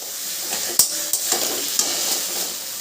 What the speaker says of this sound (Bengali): তা আমি আর একটু কষিয়ে নিই